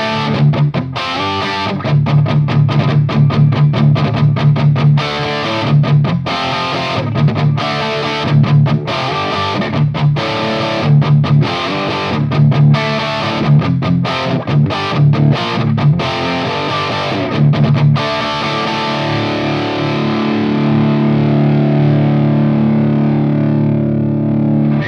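Heavy distorted electric guitar plays one signal through a Kemper, a Line 6 and two Diesel VH2 amps, chugging a loud, choppy rhythmic riff with stops and then a long sustained ringing chord that fades.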